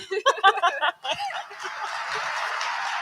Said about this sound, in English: which is an Inuit throat-singing duet from Nunavut in Canada